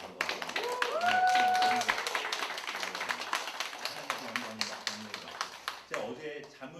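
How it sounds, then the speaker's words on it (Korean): A church congregation claps in encouragement after a sermon, scattered taps building into a steady ripple of applause that runs through most of the stretch, while a voice talks over it. "한번 격려의 박수 한번."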